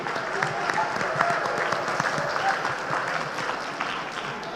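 An auditorium audience claps continuously in dense, sustained applause that holds at a steady level throughout, with a few voices mixed in.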